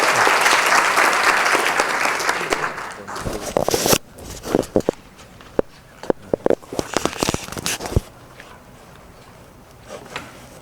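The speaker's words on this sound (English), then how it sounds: "Let's give him a big hand and applause" An audience at an IEEE lecture at Taipei Tech applauds to welcome a visiting speaker, loud dense clapping that thins out to scattered individual claps and then fades.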